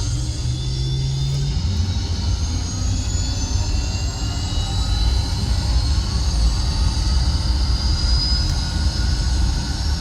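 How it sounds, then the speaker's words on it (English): An Eclipse 550 light jet's engine spools up on the ramp: a loud, continuous roar with a rising high whine, a brief low tone early on, steady and close throughout. "So now we can go ahead and start the engine."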